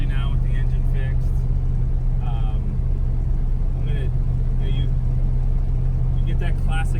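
Engine of a 1974 Plymouth Cuda with a 360 V8, a steady low rumble while driving along, with voices chatting over the drone inside the car.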